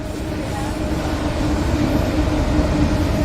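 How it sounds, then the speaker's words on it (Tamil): A goods train headed for Central rolls through Kadambathur railway station, a steady, loud low rumble and rail clatter that holds throughout without pause. "சென்ட்ரல் போகக்கூடிய ரயில் போகிறது, குட்ஸ் ட்ரெயின் அது."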